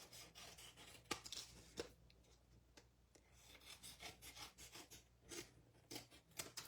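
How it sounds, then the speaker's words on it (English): Metal snips trimming the back edge off cardstock paper for stamping, making a series of short, crisp cutting and rasping sounds close by, alone with no talking. "I'm going to bring in my snips here and just trim off"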